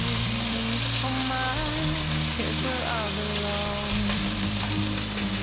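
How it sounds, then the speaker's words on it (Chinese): A taro and tofu patty with daylily buds fries in a pan, giving a loud, continuous sizzle that holds steady throughout with no talking. "让它煎均匀一点。"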